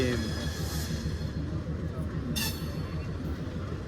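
A crowded passenger train departing toward Thivim, Goa rumbles along with a steady low rolling clatter of wheels, a couple of brief hissing bursts rising above the continuous mechanical drone.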